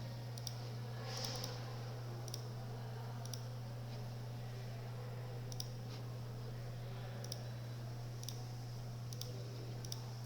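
A computer mouse clicks sparsely, a handful of faint, sharp taps spaced seconds apart over a steady low electrical hum in a quiet room.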